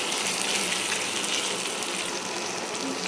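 Ground tomato and coconut paste pours steadily into a pan, a continuous close wet gushing that holds evenly loud for a few seconds with no voices.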